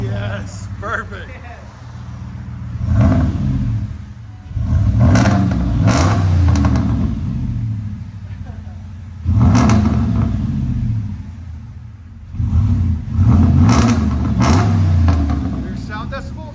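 Ram 5.7L HEMI V8 truck fitted with 5-inch exhaust tips and resonators, revving in several loud, deep bursts separated by idle rumble, with people talking over it.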